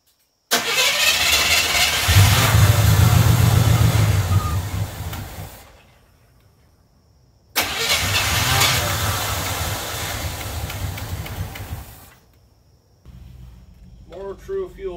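A 1984 Chevrolet K5 Blazer that sat for over ten years cranks hard with the air cleaner off, two long loud starter bursts close by, separated by a brief quiet pause, without catching.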